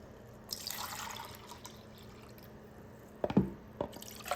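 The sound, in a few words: milk punch frothing and bubbling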